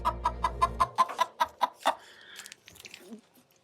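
A chicken clucks close by in a quick run of about a dozen rhythmic clucks that end in a louder squawk, followed by fainter rustling.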